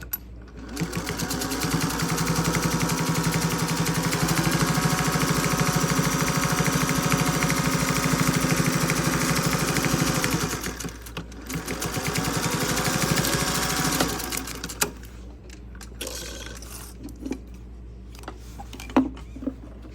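A sewing machine runs steadily while stitching a quarter-inch seam on a black and white quilt-as-you-go block, with a brief pause midway, then stops, followed by a few quiet handling clicks.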